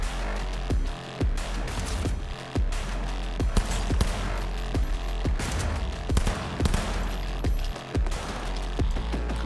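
Gunfire in the video game Cyberpunk 2077, dense bursts of rapid shots cracking one after another throughout, loud and close with short gaps between volleys.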